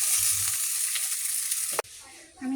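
Chicken pieces frying in oil in a wok give a dense, close sizzle that breaks off abruptly partway through. A quieter hiss and a faint clatter of the pan follow, with no speech.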